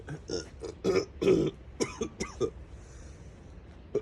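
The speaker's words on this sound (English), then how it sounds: "Sorry for my cough" A person coughs several times in short bursts, close by, followed by a quieter stretch.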